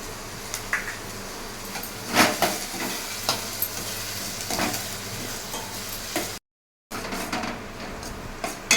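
Onion pieces fry in a pan with turmeric and salt, giving a steady close sizzle with occasional scraping stirs and a brief silent break near the end.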